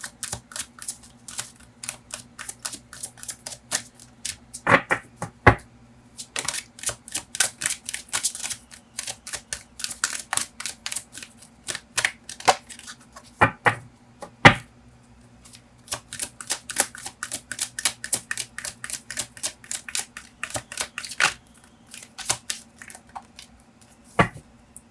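Oracle cards are shuffled in long runs of rapid, crisp riffling clicks and flutters, close and fairly loud, with short pauses and occasional taps between bursts.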